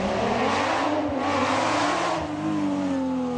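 A Porsche rally car at the Rallye du Touquet 2013 revs hard, its engine rising and falling in pitch as it accelerates past, loud and close.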